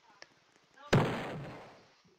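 A cannon in the Roblox game Ragdoll Engine fires once with a sudden loud boom that decays over about a second, preceded by quiet game sounds and faint voice-like tones.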